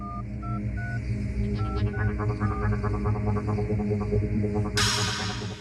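A phone number being dialed: a quick run of separate keypad tones, then a steady electronic ringing pulse and a sudden bright burst near the end, loud and close.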